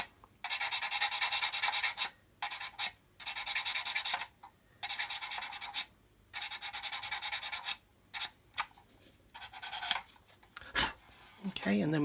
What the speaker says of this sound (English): And get in here and make sure we get the edges of these undercarriage base smoothed out.